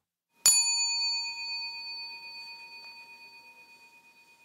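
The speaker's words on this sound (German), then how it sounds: "Nach dem Glockenton." A single bell is struck once, ringing out clear and bright, then its tone slowly fades with a gentle shimmer over several seconds.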